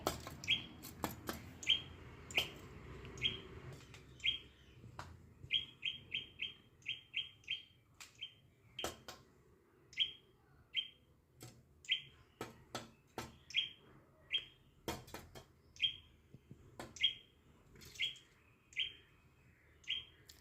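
A pet ginger bird chirps in short repeated bursts, quick clustered tweets with brief pauses between them, close and clear against a quiet room with faint background noise.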